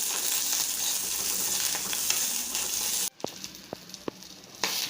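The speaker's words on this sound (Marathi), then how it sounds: "आता आपल्याला हे मिरच्या छान अशा दाबून दाबून खरपूस भाजून घ्यायचे आहेत" Green chillies roasting in hot oil while being pressed down, a loud steady sizzle that suddenly drops away, followed by quieter crackling and a few sharp spoon taps against the pan.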